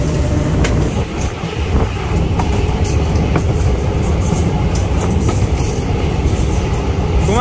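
A passenger train pulls out of Saraikhol station, with a steady loud rumble of wagons, squealing wheels and rhythmic clickety-clack of rail joints that continue throughout, alone without talk.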